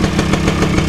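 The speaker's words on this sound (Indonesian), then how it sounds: "motornya udah bunyi" A Suzuki RC100 motorcycle engine idling close by, a steady, loud, even putter that fills the short moment without any voices.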